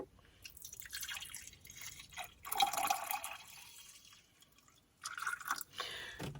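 Water is poured into a cup for coffee inside a camper van. Soft splashing and trickling come in a few bursts, close and fairly quiet, with no talking.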